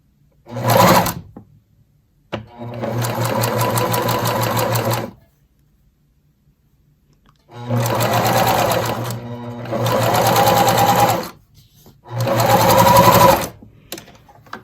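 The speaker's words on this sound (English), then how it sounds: "Do a straight stitch." Sewing machine running a straight stitch along a zipper seam, three separate bursts of loud rapid mechanical whirring, the last two each split by a short pause, with near silence between bursts, close and alone.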